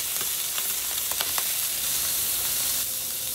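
Pork chops browning in olive oil in a frying pan give a steady close sizzle with small crackling pops, continuous and fairly loud with no one talking.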